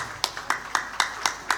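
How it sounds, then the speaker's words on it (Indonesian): Audience applause for Dr. Didit Novianto at a hospital event, sounding as a sparse run of about six evenly spaced, close hand claps. "Tepuk tangan dulu deh buat Dr."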